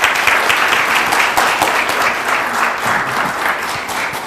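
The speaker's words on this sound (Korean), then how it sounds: "귀한 강연을 해주신 김현아 의원님께 다시 한번 큰 박수" An audience applauds after a lecture by former National Assembly member Kim Hyun-a on real estate studies, a loud, dense and even round of clapping that holds steady throughout without talk.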